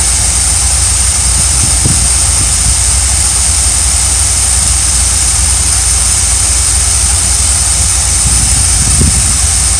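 An RV engine runs steadily as its choke opens, a loud, constant roar with broad droning noise throughout and no clear change in rhythm.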